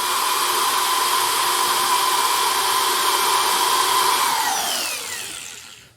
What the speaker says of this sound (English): And I'm drilling through from the top.